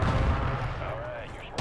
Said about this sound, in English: Hit him with that nade.